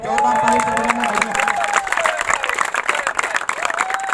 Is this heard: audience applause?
yes